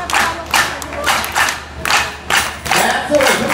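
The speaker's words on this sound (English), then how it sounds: "What we want to do is do the clap and beat with us" A crowd claps rhythmically along with a percussion beat at a world fusion performance by the Aseana Percussion Unit in Bangsar, Kuala Lumpur, with loud, dense, repeating bursts of clapping, cheering and drumming.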